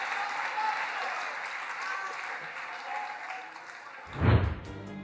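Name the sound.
crowd applause at Vance rally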